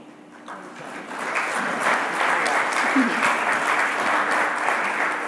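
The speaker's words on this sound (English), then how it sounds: "So, one final round of applause for our presenters here, Tanya, Elizabeth, Sharon, Christine, and Re" Applause from the audience at a national gathering on unmarked burials in Montreal, swelling after a quiet start into sustained, dense clapping that carries on evenly to the end.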